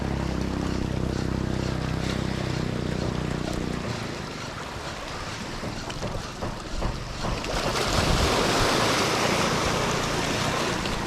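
Sea water surges and splashes against a boat amid steady wind noise, with a droning engine fading out partway and rougher waves rushing in later.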